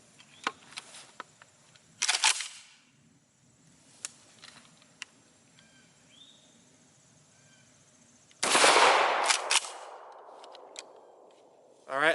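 A Kel-Tec KSG 12-gauge pump shotgun fires 00 buckshot at a target seven yards away on a range. Two sharp, loud blasts come several seconds apart, each with a short ringing decay, amid quieter handling clicks.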